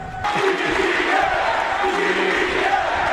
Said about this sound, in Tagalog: Lalo nang umalingaw-ngaw ang sigawan.